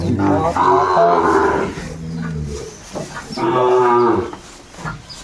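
Sahiwal cattle moo loudly and close by at a livestock market, two long, drawn-out calls separated by a short pause, with faint background noise.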